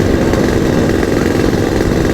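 A motorcycle engine runs steadily at a gas station during a refueling stop, a continuous loud close-up engine drone with no talk over it.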